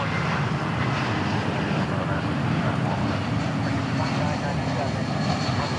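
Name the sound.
Royal Jordanian airliner flying at DFW Airport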